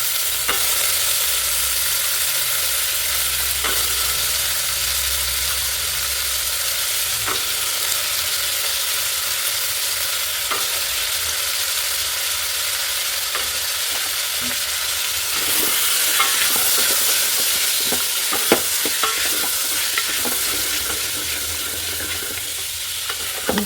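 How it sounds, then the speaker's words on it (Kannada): Avarekalu hyacinth beans and vegetables fry in a pan for kootu, with a sustained sizzle and occasional scraping stirs and light clinks, steady and fairly close, louder near the end. "ಎಲ್ಲ ಚೆನ್ನಾಗಿ ಫ್ರೈ ಆಗಿದೆ"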